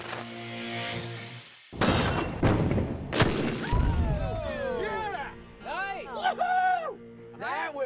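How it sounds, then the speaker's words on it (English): A black powder cannon fires a cannonball with a heavy, close boom and rumbling crash, followed by excited voices and clatter. "It threw the cannonball the full length of the course."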